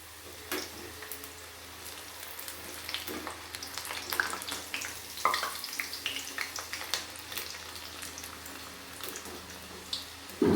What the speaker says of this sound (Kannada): ನೋಡಿ ಇಷ್ಟು ಫ್ರೈ ಆದರೆ ಸಾಕು